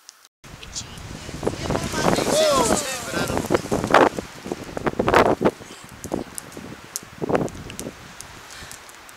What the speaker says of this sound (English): Gusts like that, I'll be concerned